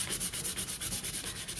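Steady rhythmic sanding of an epoxy-coated glitter cup spinning on a cup turner, a dry abrasive rubbing with regular pulses, close and continuous with no talking.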